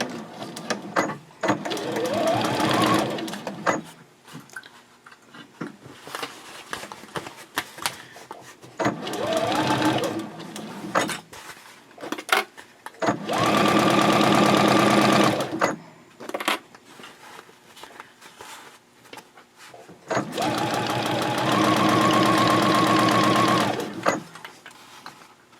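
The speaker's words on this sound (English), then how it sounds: "I'm going to start sewing down the side." A domestic sewing machine stitching a half-inch seam down the side of a fabric project bag, with back stitching at a 2.6 stitch length, in several steady whirring runs separated by short pauses and small clicks, close and clear.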